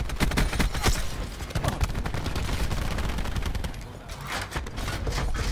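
Rapid gunfire from a weapon aimed with iron sights in a shooter video game: dense, loud bursts of shots crackling one after another with barely a gap, easing briefly near the end before another volley resumes.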